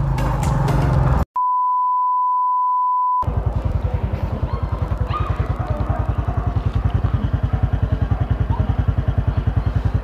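Morning street traffic in Dumaguete City, Philippines: after a short electronic beep, a nearby motorcycle engine putters in a steady, rapid rhythm with busy road noise behind it. No horns stand out, and brief talk comes before the beep.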